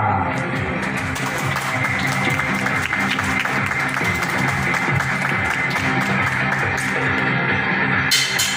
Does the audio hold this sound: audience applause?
yes